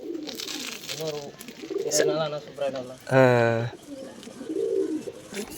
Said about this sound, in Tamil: இங்கிலீஷில் புறா பேர் இந்தியன் ஃபென்டைல் பாருங்களேன் எப்படி போகுது பாருங்க